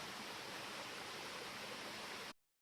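Water pours steadily at Pang Sida waterfall in Pang Sida National Park, a dense, unbroken rushing hiss at low flow that fills the air and then cuts off abruptly.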